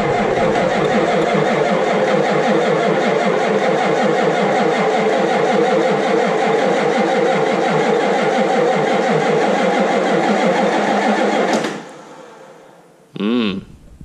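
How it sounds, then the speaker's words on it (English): Ford 6.9 IDI diesel engine cranking on its starter in a long, loud, rhythmic churning whir that stops abruptly, followed by a brief second burst of cranking. "I'm going to use the fancy new upgraded cruise control starter widget here and give her a send."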